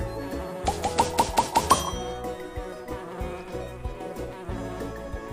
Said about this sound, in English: Some bees make their nests in hollow logs.